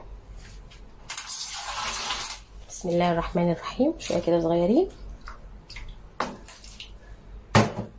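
Water poured from a container over about two kilos of sweet potatoes packed in a baking tray, giving a short splashing rush, with someone talking before and over it.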